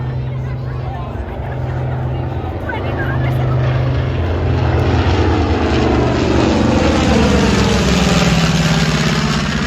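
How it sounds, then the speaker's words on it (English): Loud, rumbling roar of a B-25 bomber's piston engines at an airshow, building in intensity and growling steadily throughout. "it has a bark, very large, loud bark to the engine. You can close your eyes and know this was a B-25"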